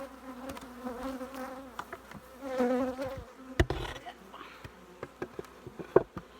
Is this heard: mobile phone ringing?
no